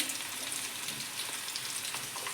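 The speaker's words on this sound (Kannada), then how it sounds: "ಜೀರಿಗೆ ಸಾಸಿವೆ ಹಾಕಂತ ಚೆನ್ನಾಗಿ ಚಟಪಟ ಅಂದಿಲ್ರಿ ಅದು" Cumin and mustard seeds, along with garlic, crackling in hot oil for sambar, a soft, steady sizzle with faint pops, close and fairly quiet, with no speech.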